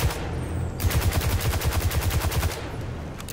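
Rapid automatic fire from a weapon in Destiny 2, played with a Hunter build, cracks out in a steady burst of about twenty evenly spaced shots lasting nearly two seconds, loud and close, then stops abruptly.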